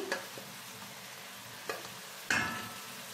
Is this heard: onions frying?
yes